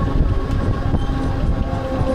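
Mumbai local train pulling into Masjid Bandar station, a steady loud rumble of rail cars and wheels on track filling the whole stretch with no voices.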